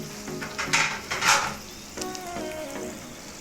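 Cubed plantain being stirred into sauce in a pot: a few clinks and scrapes of a spoon against the pot over a soft bubbling simmer, close and fairly quiet, with no talking.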